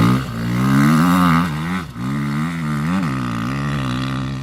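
A KTM 350 dirt bike engine running close by, a loud steady drone with a couple of brief dips and blips of throttle, heard alone.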